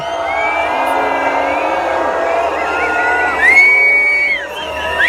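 A large outdoor crowd at the 2017 Montpellier Gay Pride cheers and whoops steadily, with a few rising whistles cutting through near the end.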